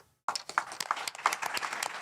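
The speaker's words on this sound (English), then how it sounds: "the final round of applause for our candidates" A live audience breaks into applause for the candidates at an Osage Minerals Council debate, with dense, steady clapping beginning abruptly after a short silence and continuing throughout.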